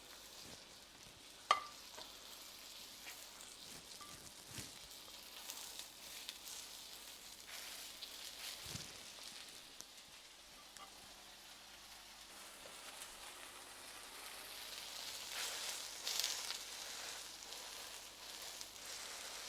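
Bread tossed into a hot buttered pan to toast, a quiet, faint sizzle with a few sharp clicks and soft bumps, the frying hiss swelling slightly toward the end.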